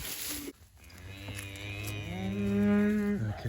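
A family milk cow on a homestead dairy moos in one long, loud, sustained call that swells and fades, heard close with no talk over it.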